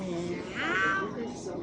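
A person imitates a cat's meow, giving a short rising-and-falling drawn-out meow in the middle of a busy, talky background.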